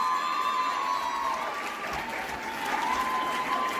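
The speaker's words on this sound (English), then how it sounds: "A round of applause one more time" A crowd at the Miss Namibia beauty pageant applauds and cheers for the twelve contestants, steady loud clapping with scattered shouts and whistles over a sustained tone from the hall's sound system.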